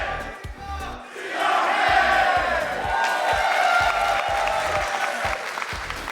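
A small but lively esports crowd at the 2022 Rocket League RLCS World Championship match between Falcons and Dignitas cheers and chants loudly, with rhythmic thuds like stomping or clapping punctuating the sustained roar.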